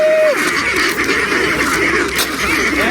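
Farm ducks feeding on yellow corn quack loudly and close by, with a few honking calls over a constant background of busy pecking and rustling.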